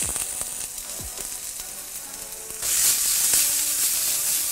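Eggplant, carrots, zucchini and peppers sauté over high heat, a steady close sizzle that jumps louder and brighter partway through as more vegetables hit the pan, with faint utensil knocks.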